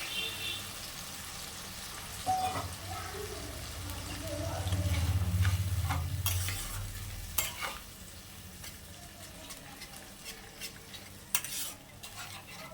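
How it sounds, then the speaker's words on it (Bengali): A spice masala with added water is stirred and fried in a pan for a fish roe fritter curry, with a bubbling sizzle, repeated scraping and clinking of a spoon against the pan, and a voice speaking at times over it. "এবার এটা আমি ভালো করে কষিয়ে নেব।"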